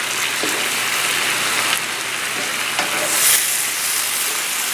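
Soy sauce mixed with hoisin hits frying brown rice with vegetables in a hot pan, producing a steady, loud sizzle with a few faint clinks of the utensil and no voices.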